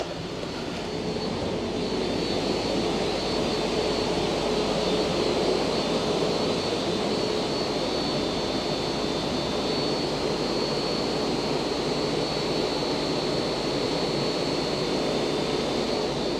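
A Land Rover Discovery Td5 diesel with a skimmed cylinder head roars steadily under load on a dynamometer, a loud, sustained drone holding for the whole run without any talking.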